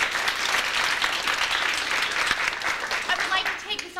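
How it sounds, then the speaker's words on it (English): Sustained, dense applause from an audience at a school committee meeting, steady clapping filling the room for the whole stretch, with voices mixed in underneath. "So can we please have another round of applause?"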